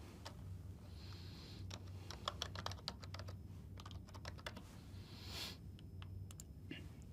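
Quiet, rapid clicking of fingers typing on a computer keyboard, irregular bursts of keystrokes with short pauses, close but faint over a low steady hum.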